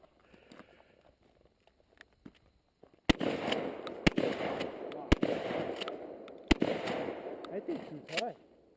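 Sharp gunshots at an outdoor shooting range crack out one at a time, several loud reports spaced about a second apart, each followed by a brief ringing tail, with people talking quietly in between.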